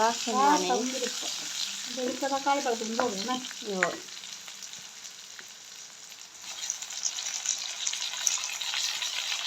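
Close, steady sizzling and frying from ingredients being sautéed and stirred in a pan for a dried fish curry. A voice hums or speaks briefly over the first few seconds before the crackle continues on its own.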